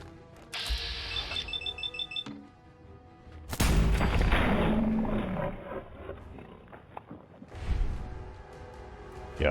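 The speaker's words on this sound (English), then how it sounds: "double-barreled shotguns are great unless you're facing more than 2 enemies" Double-barreled shotgun blasts from the game Fallout 4, loud booming shots with broad roaring noise amid combat effects, several bursts over a few seconds.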